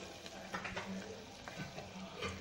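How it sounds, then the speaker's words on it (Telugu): A spoon stirs turmeric into lightly fried ingredients for a coconut and broad bean masala curry in a pan, giving soft scraping strokes and clinks over a faint, quiet sizzle. "కొద్దిగా పసుపు వేసి అంతా కలి కలిసేలాగా ఒకసారి కలుపుకోవాలి"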